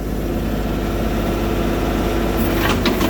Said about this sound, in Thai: เร่งเครื่องหน่อย เร่งเครื่อง